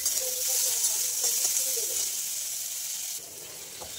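Potatoes with radhuni seeds sizzling in hot oil in a home kitchen, a steady bright hiss and crackle that holds throughout and eases slightly near the end, with no voices.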